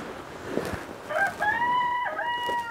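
Chickens in a coop quarantine area, with a rooster-like drawn-out crow rising after a second of rustling, close and fairly loud with faint clucking around it.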